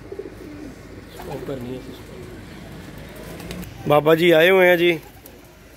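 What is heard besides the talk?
pigeons cooing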